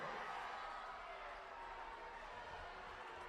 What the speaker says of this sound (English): The crowd at the end of the court are just giving the ref some advice on that call